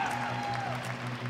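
Applause from an audience at a Budapest high school graduation ribbon ceremony, a dense, steady patter of clapping with faint music tones running beneath it.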